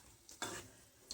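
Onion bhaji fry in oil over a low gas flame, giving a brief quiet sizzle with a couple of soft bursts of crackle and no voices.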